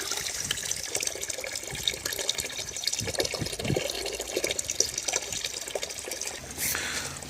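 Hot water from an Altek 24 solar collector runs steadily into a bucket, a continuous close splashing gush without pause, with a brief change in the flow near the end.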